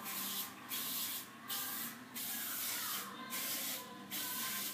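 Five short hissing bursts of a hair shine spray bottle, evenly spaced with brief pauses between, close and clear.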